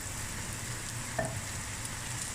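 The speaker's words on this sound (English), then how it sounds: "now I'm going to add my turmeric and my paprika" Turmeric and paprika hit a frying pan for a lemony rice and prawn dish, giving a soft, continuous sizzle with a brief stirring clink midway, quiet and close.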